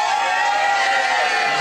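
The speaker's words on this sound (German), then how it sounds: "euer stürmischer Applaus hat mich ein bisschen durcheinander gebracht" Loud, dense crowd noise fills the whole moment steadily, a broad wash of audience cheering and applause at a Berlin rap show, with no distinct individual voices.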